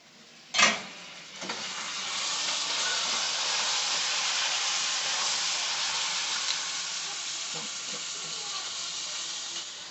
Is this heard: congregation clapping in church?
no